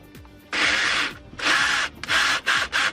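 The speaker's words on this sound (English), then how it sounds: "So I'm gonna drill a couple holes," A power drill whirs in several bursts, a long steady run followed by shorter pulses, close and loud with brief pauses between, drilling holes while installing pillar gauges in a second-generation Mitsubishi Eclipse.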